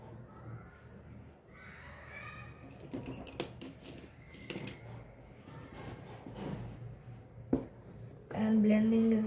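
An HB graphite pencil shades and blends on paper with soft, close scratching and rubbing strokes, while a person talks over it.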